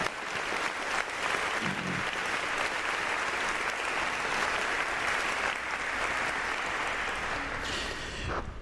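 Sustained audience applause at the 20th anniversary Dare to Understand Awards celebration honoring awardees, steady and full-bodied clapping from a large crowd lasting throughout.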